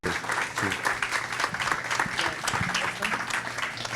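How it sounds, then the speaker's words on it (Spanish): Applause for Dr. Jorge Torres after a malaria talk, a moderate crowd clapping steadily in a room, with faint voices mixed in under the claps. "queremos agradecer al doctor Jorge Torres y un aplauso,"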